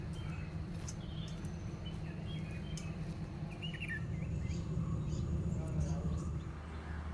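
Scattered bird chirps and calls rise from a sunrise countryside scene during a bird watching tour in Wayanad, faint and distant over a steady low rumble of background noise.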